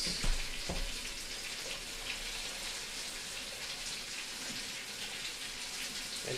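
Tap water runs steadily into a pot for chicken noodle soup, a constant, fairly soft rushing stream with a small splash at the start and no talking.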